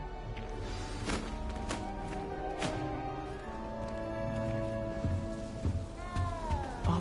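A small frightened cat meows in the video game Hogwarts Legacy, a few thin drawn-out cries rising above a busy ambient game soundscape with music and soft thuds, fairly faint and with no speech.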